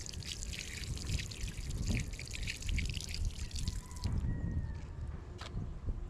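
Water trickling and splashing steadily at the Theotokos Shrine in Carcar City, Cebu, Philippines, a continuous, fairly faint outdoor flow with light drips and no talk.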